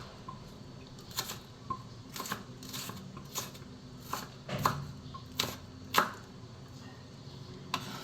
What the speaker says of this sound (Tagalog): Igadgadin ko na yung sibuyas.